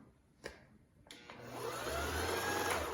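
A sewing machine bobbin winder starts spinning a bobbin, rising after a couple of faint clicks into a steady whirring motor hum that holds to the end, with no talking.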